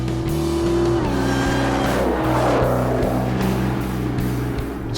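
Twin-turbo Hemi stroker in a 2010 Dodge Challenger SRT8, roughly 700 horsepower, driven hard with a loud steady engine roar and a rhythmic pulsing drone, heard close and continuous.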